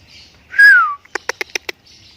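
A young white-rumped shama (murai batu) gives one clear downward-sliding whistle, followed by a quick series of five sharp, evenly spaced chip notes, close and clean against a quiet background.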